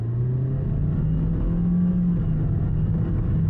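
A 2026 Toyota Ativ E with a CVT accelerating in sport mode, a steady droning engine hum that rises slightly in pitch under road rumble inside the cabin, with no talking.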